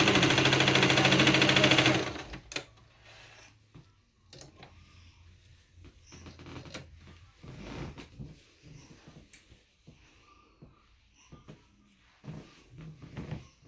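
A sewing machine stitches fabric in a single loud, close burst of about two seconds, then gives way to quiet handling, clicks and rustling of cloth.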